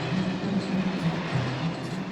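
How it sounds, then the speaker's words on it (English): A train rumbles along on an overland journey through Africa as a steady, low, moderately loud clatter with faint rhythmic rail tones and no talk. "This magical train ride will be my last overland journey for quite a few days."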